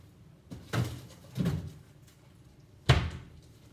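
A home freezer door opens and shuts in a kitchen with a few soft thuds and rustles, ending in a firmer closing thump, no talking.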